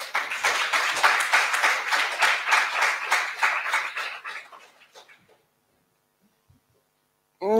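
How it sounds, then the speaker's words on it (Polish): An audience claps for an honoree at a school reading-contest award gala, giving a loud burst of dense applause that fades out after about five seconds into near silence. "Wielkie brawa dla ciebie."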